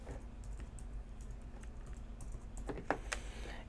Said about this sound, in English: I'm just going to type in some password